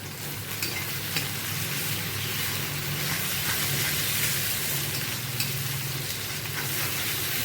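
Onions frying in a pan after a pinch of salt, giving a steady, loud, even sizzle throughout with no speech.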